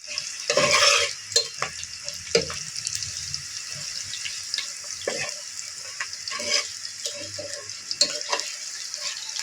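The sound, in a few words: frying and stirring in beef fat for khichuri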